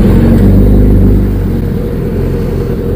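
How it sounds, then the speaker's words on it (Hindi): A motorcycle fitted with an aftermarket Wudo exhaust runs steadily at close range with a deep, throbbing, pulsing rumble that stays loud and even throughout, with no talking. "वुडो का इसके अंदर एग्जॉस्ट लगा हुआ है, साउंड भी बड़ी प्यारी"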